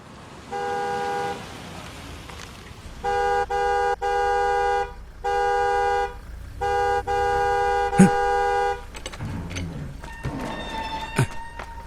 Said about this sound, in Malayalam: എത്ര നേരമായി ഹോൺ അടിക്കാൻ തുടങ്ങിയിട്ട്?